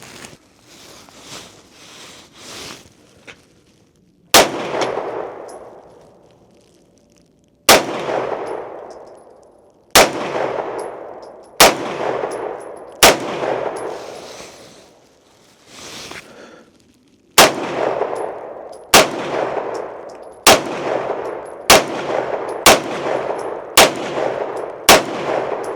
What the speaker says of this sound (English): just getting more acclimated to shooting my Beretta and just feeling really like comfortable with it